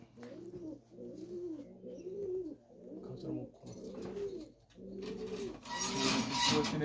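Indian Lotan pigeons coo close by in a repeated rhythmic series of soft throaty calls, about one per second, with rustling and scraping noises toward the end.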